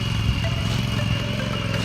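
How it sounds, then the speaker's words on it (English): A tractor pulls a boat out of the water, its engine giving a steady, loud mid-pitched drone that holds without a break from start to finish. "pulls the boat out with like a tractor wheel. Check out that machine."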